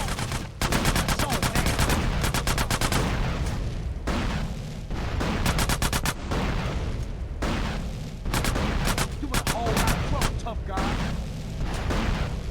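Rocket launcher blasts and sustained gunfire in GTA San Andreas during a gang fight, loud rapid bursts of automatic shots repeating in waves with booming impacts, dense and continuous across the scene.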